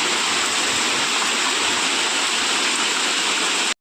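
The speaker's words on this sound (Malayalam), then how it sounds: "നല്ല മഴയാണ്" Heavy rain pours down steadily in a dense, continuous hiss with no breaks, loud and close.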